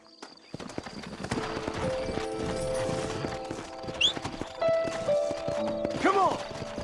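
Steady clip-clop of horses' hooves trotting in the Western video game Red Dead Redemption, with a short whinny near the end over background game sounds.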